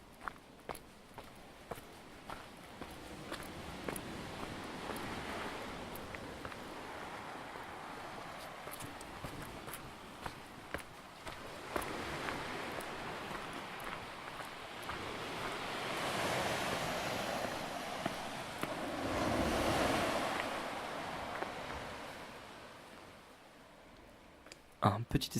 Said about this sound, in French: on entend de plus en plus les vagues qui viennent s'écraser sur la plage